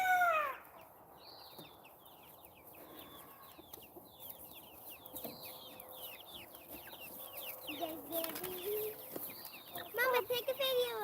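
Young chickens chirp and cheep in a steady stream of short, high calls close by, with clucking fowl mixed in. A voice speaks briefly near the start and again toward the end.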